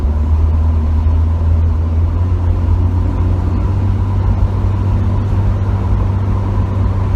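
A 1966 Ford Mustang with an inline six engine drives around the block, giving a steady, low, rumbling engine drone with road noise, even and continuous throughout and without talk.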